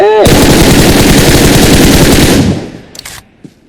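Machine gun fire in the PUBG Mobile video game, a loud, rapid, continuous burst of automatic shots that stops abruptly after about two and a half seconds, followed by a few faint clicks.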